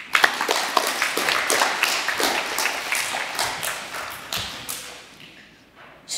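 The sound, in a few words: round of applause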